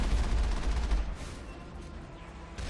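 Gunfire in the video game Mass Effect: a rapid, loud burst of automatic shots in the first second, followed by a lower-level rattle of further fire and trailing noise.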